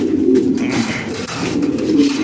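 Caged Lahore pigeons coo, low and throaty, in soft overlapping calls that fill the space close by.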